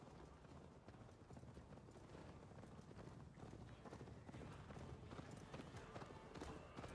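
Steady clip-clop of horse hooves at a quick gallop in Assassin's Creed Valhalla, continuous and fairly loud, with faint game ambience and a murmur of voice beneath.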